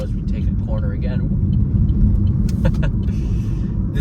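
A Chevy Volt electric car rounds a corner with a low, steady rumble of road and tire noise from inside the cabin. A person speaks briefly over it, and a few light clicks and rattles occur near the end.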